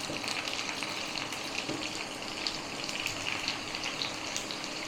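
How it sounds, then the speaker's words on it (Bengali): Pani puri frying in hot oil gives a dense, steady sizzle with bubbling crackles throughout, close and fairly loud, with no speech. "এরকম উল্লে পাল্লে আবার ভেজে নেব।"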